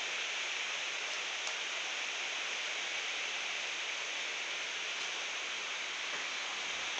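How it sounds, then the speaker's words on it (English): Steady, dense hiss of rain drumming on a conservatory roof overhead, unbroken and even throughout. "The background noise is it's raining and we're in the conservatory."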